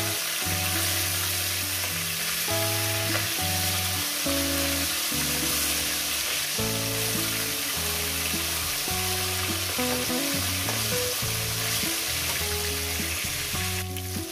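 Steady crackling sizzle of fish frying in hot oil, close and continuous, with low tonal music playing underneath throughout.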